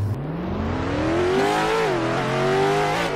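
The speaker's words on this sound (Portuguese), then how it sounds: "Olha o som do motor agora." Car engine revving in the Roblox game Driving Empire, a loud synthetic motor note climbing in pitch as it accelerates, dipping briefly and rising again, heard alone up close.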